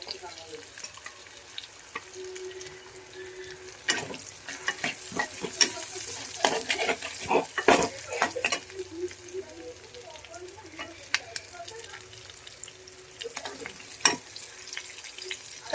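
Onion frying in a pan with vinegar, chilli sauce and soy sauce in a home kitchen, a steady sizzle with stirring clatter and scraping spoon strokes throughout, busiest in the middle.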